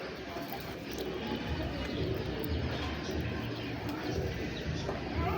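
Kasuri pigeons coo in a loft, soft throaty burbling calls from several birds layered over a dense, constant background, with some faint voices mixed in.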